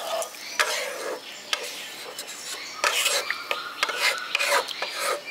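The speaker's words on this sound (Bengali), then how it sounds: "জলটা দিয়ে মিশিয়ে দিচ্ছি।" Fish curry masala being stirred in a pan after water is added, a spoon or spatula scraping and rubbing in repeated close strokes with light sizzling beneath, no talk.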